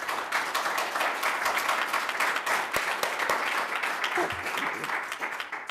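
Sustained audience applause fills a city council meeting chamber, a dense steady wash of many hands clapping at fairly even loudness, with no talk over it, before tapering slightly near the end.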